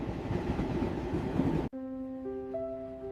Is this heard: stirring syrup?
no